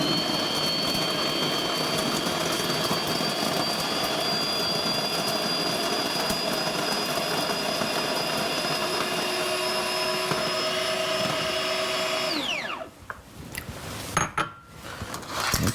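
A cheap electric coffee grinder set to its coarsest setting grinds beans with a loud, steady whirring roar for about twelve seconds, then winds down with a falling whine and a few rattles as it stops.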